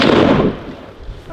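A single loud gunshot fired outdoors, heard close up, its sharp crack fading into a short rolling echo within about half a second.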